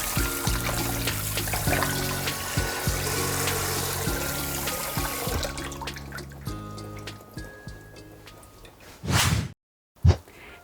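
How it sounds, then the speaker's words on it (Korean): Tap water running steadily while raw beef short ribs are rinsed clean in a kitchen sink, a continuous trickling wash that fades out near the end with a couple of brief splashes or clunks. "마지막으로 한번 이렇게 헹궈 주십니다."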